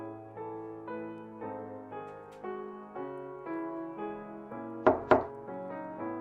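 Two sharp knocks on a door in a PS4 video game, THIFM: A Requiem For Innocence, landing close together near the end, loud and clear over soft, steady music.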